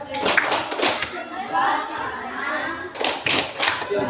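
Children in a sixth-grade primary classroom clap in a patterned tepuk salut cheer, with bursts of rhythmic hand claps separated by a pause and children's voices chattering underneath.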